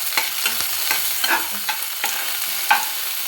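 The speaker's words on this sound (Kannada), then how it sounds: "ಟೊಮೊಟೊ ಹಾಕ್ಕೊಂಡು ಚೆನ್ನಾಗಿ ಬಾರಿಸ್ತೀನಿ" Tomato is stir-fried in a pan: a spoon scrapes and knocks in repeated short strokes over a soft sizzle, close and fairly quiet, with no voices.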